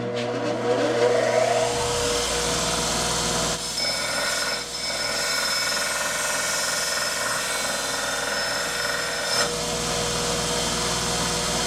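Bucktool knife-sharpening belt grinder running steadily as an axe edge is pressed to a 120-grit belt, a continuous close motor whine and abrasive rasp holding level throughout with no talk.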